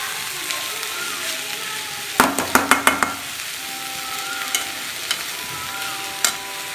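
Drumstick leaves with salt sautéed in a pan for Nagercoil-style murungai keerai thoran: a steady soft sizzle, broken by a quick burst of spatula clatters and a few scattered scrapes.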